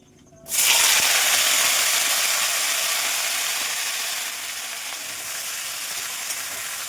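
Mango pieces hit hot oil with frying mustard seeds, setting off a sudden loud sizzle after a brief quiet start that then hisses on continuously, slowly easing.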